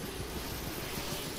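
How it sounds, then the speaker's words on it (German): A helicopter rotor in the video game DayZ spins up with a loud, continuous whooshing engine roar and a faint pulsing chop, with no voices over it. "Braucht schon ein paar Sekunden, so etwa 15 Sekunden, bis er dann wirklich volle Geschwindigkeit erreicht hat, der Rotor."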